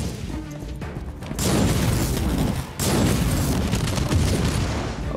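Turret gunfire in the PC action game Warhammer 40K: Inquisitor - Martyr, heard as a dense, loud barrage of booming shots and crashes that surges in two long bursts with a brief dip between them.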